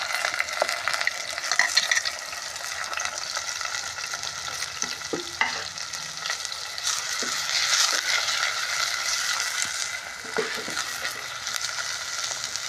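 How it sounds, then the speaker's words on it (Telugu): Chopped onions and green chillies fry steadily in a pan for a curry, a continuous loud sizzle with occasional stirring clinks and scrapes, no talking. "కట్ చేసిన ఉల్లిపాయ ముక్కలు వేస్తున్నానండి."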